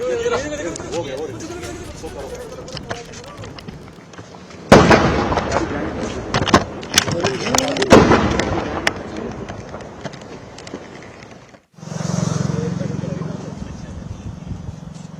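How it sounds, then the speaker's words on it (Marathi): Sharp bursts and cracking blasts of gunfire and artillery shelling along the Line of Control in Jammu and Kashmir, some distant and some close, followed by a sustained low roar; voices can be heard in the background. "गोळीबाराचा आवाज एलओसीवर पुन्हा एकदा ऐकूयाला सुरुवात झाली आहे"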